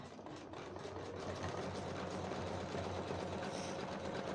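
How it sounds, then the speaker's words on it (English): An embroidery sewing machine runs a blanket stitch around a blanket appliqué, giving a steady, fairly quiet mechanical whir with fast, even needle chatter throughout. "put it back under the machine and hit the start button for the blanket stitch now"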